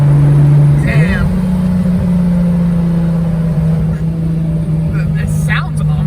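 A 500 hp RB25-swapped Nissan 240SX heard from inside while driving, with a steady, loud engine drone and a droning low hum, plus brief voices over it.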